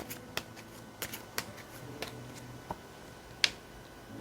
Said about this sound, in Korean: 다음 여러분에게 필요한 주옥 좋은 점 카드 2장을 뽑아 보겠습니다